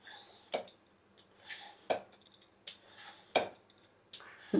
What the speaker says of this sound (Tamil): இந்த மாதிரி தோலை வந்து சீவிடலாம்